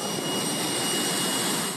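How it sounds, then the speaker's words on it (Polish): Jet engine mounted on the front of a Ural 4020 truck, blasting disinfectant spray; a loud, steady broadband roar with a high whine, continuous and close throughout. "Z przodu znajduje się silnik odrzutowy, który rozprowadza roztwór dezynfekujący."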